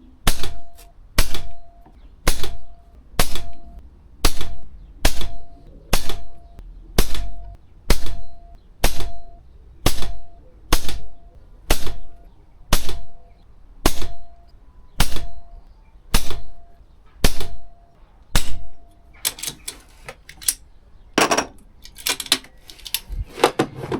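An air rifle firing a full magazine of H&N Excite pellets, with about twenty sharp, evenly spaced shots in a regular rhythm, followed by clattering handling noise at the end.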